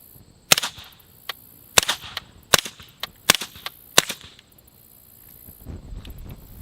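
Pistol shots through a Bowers VERS 9 silencer, firing supersonic rounds: roughly eight sharp, cracking reports spaced unevenly over several seconds, close and fairly loud, each cutting off quickly, with quiet between them.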